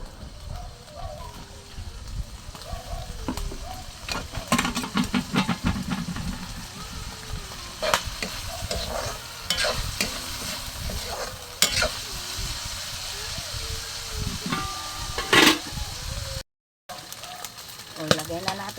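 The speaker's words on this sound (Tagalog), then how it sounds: "ginigisa ko na yung sahog. Palagyan ko na ng mantika." Ingredients being sautéed in cooking oil for Filipino mung bean stew (ginisang monggo), a steady sizzle with stirring and scraping clatter running throughout, with a brief dropout near the end.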